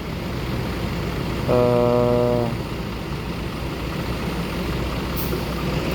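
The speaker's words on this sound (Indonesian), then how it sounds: "Ini yang bus Sumbar pembuka jalan, ada tronton pertama, belum ada yang lain." A tronton heavy truck and buses run on a busy road, with a steady low engine rumble throughout and a loud horn-like tonal blast rising briefly near the start before the traffic noise settles back.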